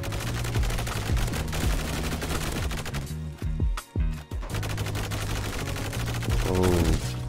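Honey Badger gun in Roblox Energy Assault firing rapid automatic bursts, loud and close, with a short pause mid-way before the fire resumes.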